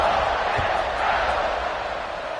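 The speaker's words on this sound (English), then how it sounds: "this crowd is buzzing after that last score" Football stadium crowd at an Ole Miss game buzzing after a score, a steady broad roar of many distant voices filling the space, loud and continuous without distinct cheers or words.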